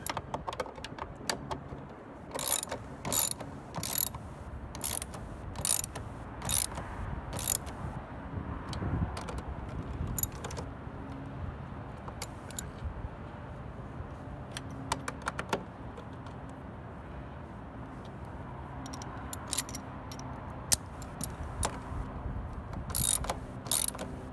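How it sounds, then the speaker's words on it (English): A hand ratchet tightens the bolts on a Toyota Corolla's side mirror, giving bursts of quick metallic clicking in irregular runs with short pauses, close and fairly clear over a faint background hum. "Then grab your ratchet, tighten them up"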